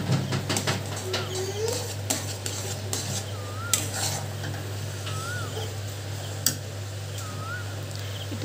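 Spoonfuls of mixture being stirred in a kadai pan, with scraping and clinking of utensil against metal over a steady low hum, plus faint bird chirps in the background.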